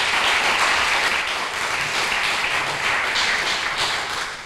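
A church congregation gives a big round of applause, dense steady clapping that fills the whole stretch without a pause, fairly loud and with no voices over it.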